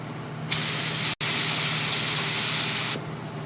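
A spray gun lays a coat of satin black single-stage paint onto a 1963 Impala firewall, a loud steady hiss running about two and a half seconds, broken once by a split-second gap, then cutting off.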